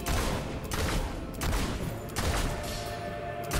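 Gunfire in the video game Fable II: a few rapid bursts of shots roughly every second, broadband and moderately loud, with no talk over them.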